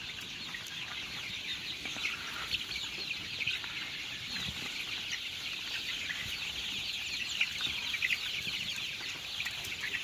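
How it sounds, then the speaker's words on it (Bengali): A dense, steady chatter of many chickens fills a crowded poultry shed in batch LH4, with overlapping clucks and peeps holding at an even level throughout and no talking. "LH4 এর নতুন মুরগিগুলা এগুলা"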